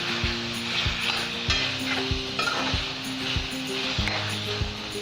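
Ginger chicken fries on high flame with a constant loud sizzle, while a metal spoon scrapes and clinks against the pan in irregular stirring strokes close by.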